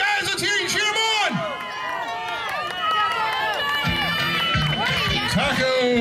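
A crowd cheers on contestants at a taco-eating contest, with loud whoops, shouts and chatter from many voices close by. Excited vocal cries rise and fall continuously over a steady, noisy babble.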